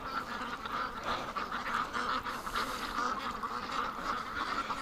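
A flock of ducks quacks continuously nearby, overlapping nasal calls forming a busy, steady chatter outdoors.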